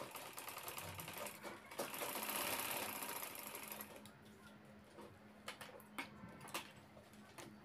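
A sewing machine runs in a long continuous burst while stitching the side strips of a handbag, then stops and gives a few short, sharp mechanical ticks and clicks.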